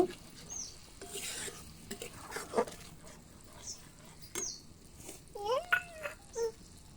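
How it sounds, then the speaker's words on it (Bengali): A spoon stirs mustard paste into a rohu fish curry in a pan, with soft scraping and faint sizzling, light clinks and scattered background noises including squeaky sounds, all fairly quiet. "সর্ষে বাটাটাকে ভালো করে মিশিয়ে নেব"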